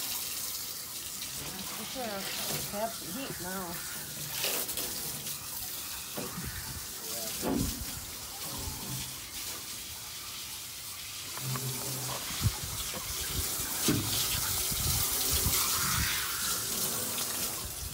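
Water runs and splashes while rinsing out the inside of a rotted wood boiler tank under repair, a steady gushing wash with clanks, and someone speaks briefly over it.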